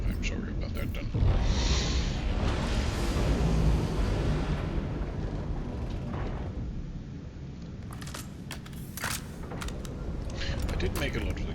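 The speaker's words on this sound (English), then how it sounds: "I did make a lot of explosions" Dull booming blasts and rumbling from the video game Star Citizen, with heavy low-end bursts early and scattered sharp pops later, continuous and fairly loud.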